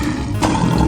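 A lion roars in a 3D animal slide video game, one short, loud, rough growl standing alone without speech.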